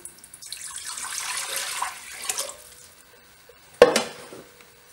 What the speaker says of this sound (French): Donc on met 640 g d'eau